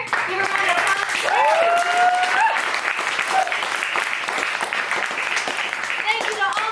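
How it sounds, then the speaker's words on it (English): An audience at a small SOFAR Sounds concert in Phoenix applauds loudly and steadily, with rising whistles and cheers mixed into the clapping and voices audible beneath it. "Give her a round of applause."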